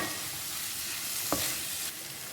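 Steady sizzling from a pan as onion and tomato are sautéed, with a scraping stir and a soft knock partway through; no voices.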